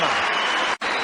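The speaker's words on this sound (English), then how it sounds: "A generous round of applause, standing ovation to the outer" A cricket crowd applauds a batsman's century with dense, sustained clapping and a brief dip near the end, a commentator speaking over it.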